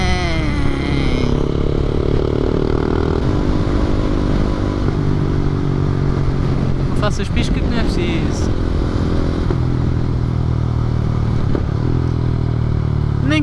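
A motorcycle engine idles and runs steadily up close, with a low harmonic drone throughout, brief clattering bursts near the middle, and people talking over it.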